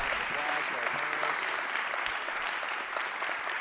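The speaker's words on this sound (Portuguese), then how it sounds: "vou pedir uma salva de palmas aos nossos painelistas" An arena audience at a religious-liberty panel of the Fórum da Liberdade 2023 applauds the panelists, steady moderately soft clapping that continues evenly throughout.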